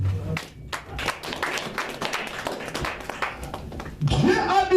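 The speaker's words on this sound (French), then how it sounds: "Acclamons pour Jésus." Congregation clapping and cheering in a church service, a sustained wash of hand claps with scattered louder bursts, swelling near the end with voices rising over it.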